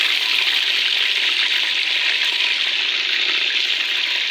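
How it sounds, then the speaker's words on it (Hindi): Chicken pieces hit hot ghee in a pan, giving a steady, loud, even sizzle with no break and no talk over it. "तो गरम घी के अंदर मैं चिकन डाल रही हूँ"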